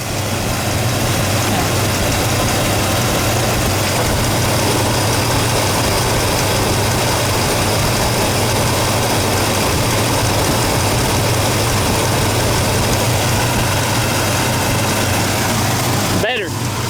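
A Pontiac V8 idles steadily and loudly up close with one spark plug wire pulled, giving a rough, uneven lumpy rumble that runs throughout, with a brief disturbance near the end.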